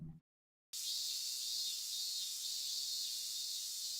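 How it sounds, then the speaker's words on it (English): Cicadas drone on a hot summer day, a steady, loud, high-pitched buzz that fills the air without pause after a brief silent gap at the start. "Burning sunlight and a sound of cicadas."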